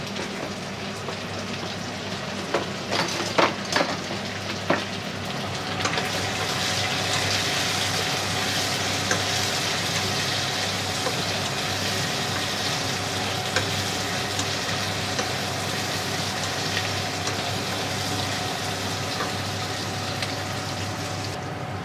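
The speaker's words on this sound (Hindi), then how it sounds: "तो हम इसे अब फ्राई कर लेते हैं।" Salted potatoes fry in a pan with a loud, steady close-up sizzle; a burst of scraping stirring clicks comes early, then the even crackling hiss carries on alone without talking.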